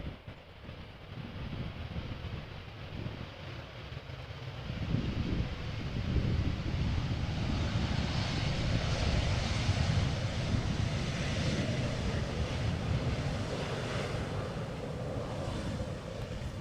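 An Embraer 190 long-range airliner, eleven years old, arrives at Amsterdam Schiphol, its engine roar swelling into a broad, steady rumble with wind noise, sustained and fairly distant throughout.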